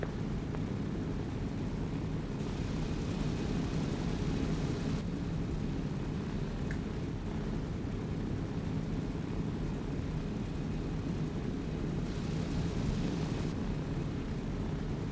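Steady, loud low-frequency engine drone of an airplane in flight in the ARMA 3 game, a continuous broadband roar filling the whole span with no voices present.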